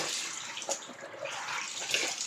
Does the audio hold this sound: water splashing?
yes